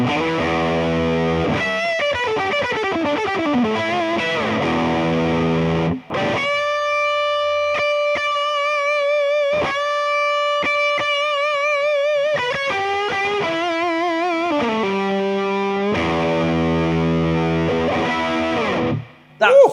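An electric guitar played through a Dumble-style amplifier rings out with rich harmonic distortion, with sustained chords and bending single notes, loud and up close, broken by two brief pauses.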